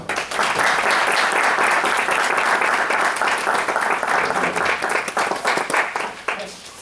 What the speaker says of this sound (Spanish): Damos un fuerte aplauso, por favor, a Teruca.